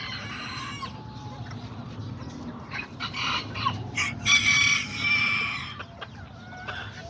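An Azteca rooster, an orangey limonado-coloured young bird, clucks repeatedly and breaks into crowing, close and fairly loud against a steady farmyard background with no voices.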